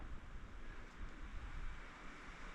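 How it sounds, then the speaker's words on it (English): Wind blows on a rainy-clouded mountain morning near Baker Peak on the Appalachian Trail in Vermont, a faint, steady rushing with soft buffeting against the microphone and no talk. "It is quite a windy morning."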